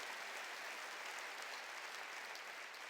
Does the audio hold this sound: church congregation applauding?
yes